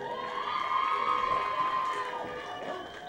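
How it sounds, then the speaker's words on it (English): A cheering squad at a high school football game yells and chants together in a steady, loud wash of young voices that swells and then eases slightly. "Here's the cheering squad down here now that we got at the ball game tonight"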